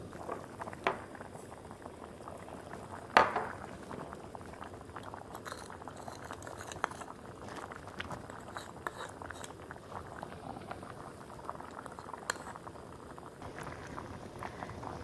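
Clear vegetable soup of chayote and corn simmering in a pot, giving a steady soft bubbling under a faint background hum, with one sharp clink partway through.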